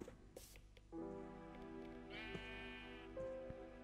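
A sheep in the video game Minecraft bleats in a drawn-out, wavering call, fairly close and clear against quiet game ambience, followed by a second shorter bleat, with no talk over it.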